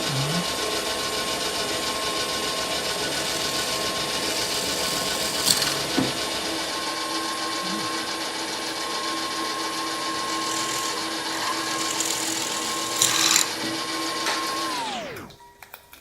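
A drilling machine bores finger holes in a wooden galoubet, the three-hole Provençal pipe. It gives a steady, loud whirring hum for about fifteen seconds, with a few brief scraping bursts, then spins down to quiet at the end.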